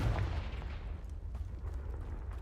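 The Confringo fire spell goes off in Hogwarts Legacy as a deep, booming blast that rolls into a sustained low rumble and crackle, fairly loud and heard alone.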